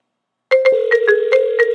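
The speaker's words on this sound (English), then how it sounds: "Bottom phone's calling the top phone." An incoming-call ringtone plays in a browser-based phone demo, starting abruptly after a brief silence and repeating a bright, warbling electronic pattern at steady volume with no talking.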